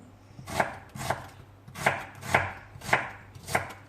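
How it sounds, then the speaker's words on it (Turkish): Knife chopping tomatoes on a cutting board in a steady rhythm, six or seven firm thuds spaced about half a second apart, with no voices. "Şimdi geri kalan malzemelerimizi doğrayalım."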